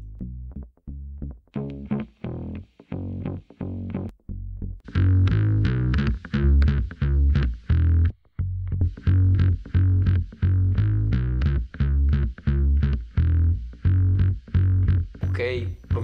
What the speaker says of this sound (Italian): sentite che sono diverse le distorsioni dei due plugin